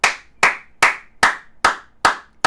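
Seven sharp, evenly spaced hand claps ring out close and loud in a slow, deliberate rhythm, each with a short fading tail, with no talking.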